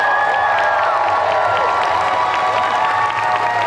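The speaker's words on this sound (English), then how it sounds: "All right, everybody, give them all another amazing round of applause." Cosplay awards audience at a convention applauds and cheers in a dense, sustained roar, clapping mixed with rising and falling shouts and whoops, loud and continuous throughout.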